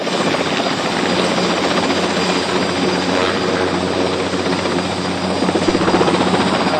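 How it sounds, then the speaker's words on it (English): Helicopter arriving at a large automotive plant, a loud steady rotor and engine roar that fills the scene without a break and swells slightly near the end. "And here comes the chopper right now."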